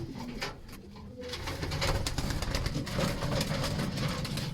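A pigeon coos in a loft, low repeated burbling calls close to the microphone, mixed with rapid sharp clicking pulses through most of the stretch.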